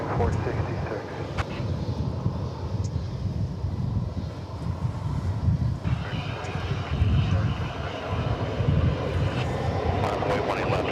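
An American Airlines airliner takes off at DFW Airport, its jet engines a loud, steady broadband roar that holds for the whole stretch, with wind buffeting the microphone and faint voices in the background.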